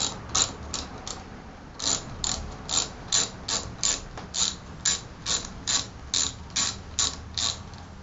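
A ratchet clicks in a fast, steady series of sharp, close strokes while the generator strap on a bus is being undone, with no talking.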